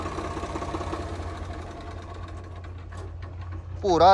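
A tractor's diesel engine chugs in a steady, rapid idle, with voices briefly audible over it near the end.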